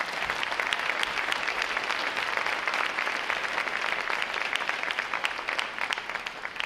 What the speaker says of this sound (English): Round of applause for CNC Andy Hotchgraver.